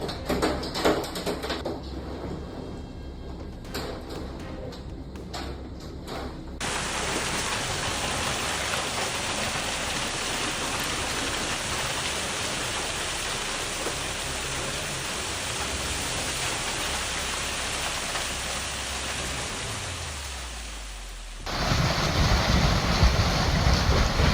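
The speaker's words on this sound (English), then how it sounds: "Weather shows no mercy in Austin as hail and heavy rain arrive together" Heavy rain mixed with hail pours down in Austin as a dense, steady hiss that swells louder partway through and surges again near the end, with no voices heard.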